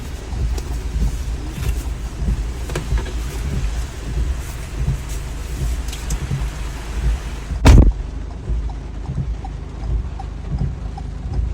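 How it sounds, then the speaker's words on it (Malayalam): Heavy rain pours in a steady, dense hiss that never lets up, broken once by a single dull thump; nobody speaks. "നല്ല മഴ."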